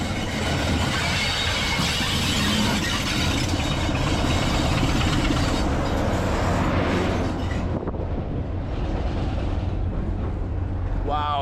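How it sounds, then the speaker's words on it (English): A heritage train arrives at Brechin station with a loud, steady rumble and engine drone that fills the scene, holding for several seconds before easing off, under wind and faint voices. "I didn't even know we were going to be lucky enough to see a train come in."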